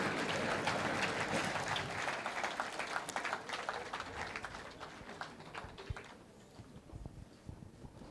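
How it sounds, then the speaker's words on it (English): An audience applauds as the Chief Justice arrives at a judiciary launch event at the Supreme Court building, a broad, dense patter of clapping that starts strong and gradually thins and softens toward the end. "Kindly, as she comes, give her a big round of applause, guys."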